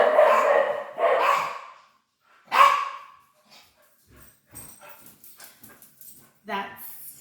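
Three pet dogs bark in several loud, sharp bursts, then whimper and yip more softly in short, scattered sounds; nearby and without talk.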